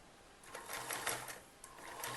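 A sewing machine runs quietly, stitching the shoulder seam of a kurti with a half-inch margin, a soft, quick mechanical patter in short runs with brief pauses, faint and close.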